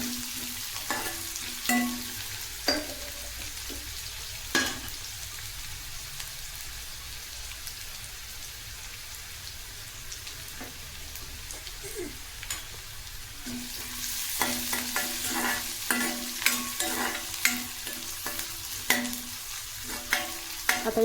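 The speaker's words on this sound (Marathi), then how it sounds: "कांदा आपला छान झाला आहे इथं तळून" Onions fry in hot oil for a Marathi-style urad dal, a steady soft sizzle that grows louder toward the end, broken by occasional stirring clicks against the pan.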